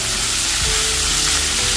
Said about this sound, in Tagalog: So, prito muna natin yan.